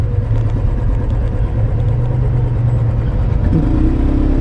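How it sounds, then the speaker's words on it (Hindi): Steady, loud rumble of idling and creeping engines from cars and motorbikes stuck in a heavy road traffic jam, close by and continuous, with no voices. "भाई इतना ट्रैफिक है ना इतना ट्रैफिक है ना"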